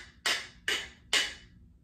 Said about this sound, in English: The guiro is going to play the iguana,